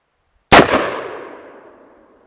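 Single rifle shot fired at about 70 yards, a sharp loud crack followed by a long, fading outdoor echo.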